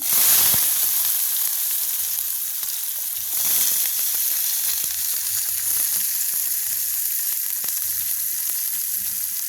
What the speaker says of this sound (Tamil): எண்ணெய் நல்லா சூடாகிட்டு நாங்கள் பெருஞ்சீரகத்தை போடுவோம் அதோட வெட்டி வச்சிருக்கிற வெங்காயத்தை போடுவோம்